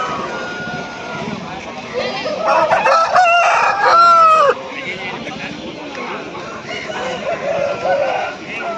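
A red rooster of about three kilograms crows loudly and close at a Sunday chicken market in Pileru, one strong call in the middle, with clucking and people talking around it.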